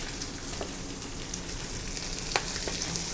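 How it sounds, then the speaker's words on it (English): Chicken pieces sizzle skin side down in a hot pan, a steady dense crackle of frying with scattered sharper pops and spatters, heard close with no talk. "now we're just going to put the chicken in. As you can hear, it sizzles"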